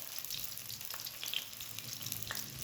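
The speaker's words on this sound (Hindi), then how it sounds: "ये देखिए सारे हम ऐसे फ्राई कर लेंगे। बहुत ज़्यादा ऑयल भी नहीं डालना" Cabbage kebab rolls shallow-frying in a little oil, a steady, soft sizzle that continues for the whole stretch, with a few faint clicks over it.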